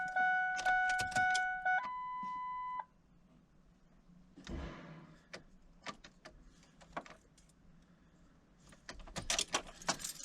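Car keys jangle in the ignition of a 2001 Ford Expedition with a crank-no-start fuel pump fault, a close bright metallic rattle with chime tones at the start, then quieter clinks and a final burst of jangling.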